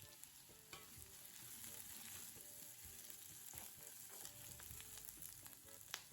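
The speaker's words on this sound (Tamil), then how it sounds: "ஒரு பெரிய வெங்காயம் சேர்த்து நல்லா வதக்கிடலாம்" Onion, green chillies and garlic sauté in oil in a pan, giving a steady, faint sizzle with occasional soft stirring clicks and no talking.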